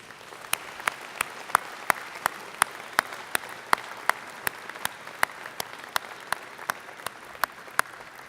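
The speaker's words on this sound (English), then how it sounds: "Graduates, could you please join me in a round of applause to thank those who have supported you through this journey?" Graduates at a Faculty of Math convocation ceremony give a sparse, steady round of applause, with distinct individual claps spaced fairly evenly at moderate loudness over a soft room background.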